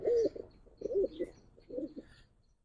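Giribaz or khaki pigeons coo close by in three distinct, evenly spaced bursts, each a soft throaty warble, with quiet pauses between them.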